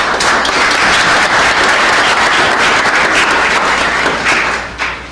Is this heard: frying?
no